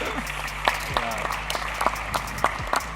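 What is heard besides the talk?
audience applause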